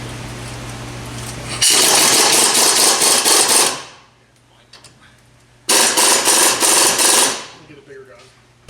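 A pneumatic impact gun hammers at a rust-seized transmission mount on a 4R100, two loud sustained bursts of rattling impacts separated by a quiet pause.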